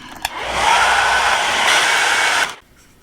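A hair dryer blows steadily on a wet scrap piece of wood for about two seconds, loud and close, then switches off into near silence after a brief click at the start.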